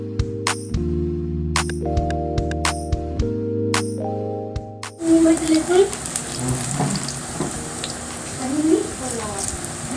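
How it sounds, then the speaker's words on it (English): Plantain slices dropped into hot oil set off a loud, crackling sizzle that starts suddenly after a stretch of background music and keeps frying steadily, with someone talking over it. "So our oil is nicely hot. So I'm going to go ahead and put the plantain."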